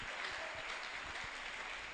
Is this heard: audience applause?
yes